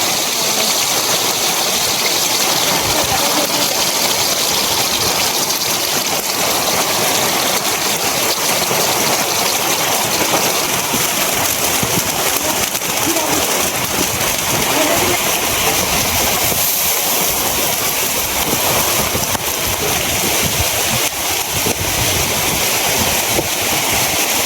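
Rain and floodwater rush around a house in a loud, unbroken roar of moving water, a dense broadband wash that holds steady for the full stretch.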